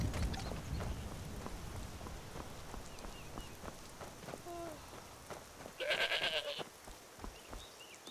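A goat in the video game Skyrim lets out one loud, wavering bleat, clear above steady rain-like patter and ambient game sounds.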